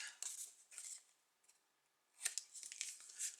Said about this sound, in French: moi, je vais couper les coins pour que ça rentre mieux